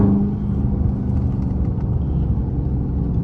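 Inside a Dodge Charger Daytona 392 on a back road, a steady, loud low engine rumble with road noise runs throughout, close and with no voices.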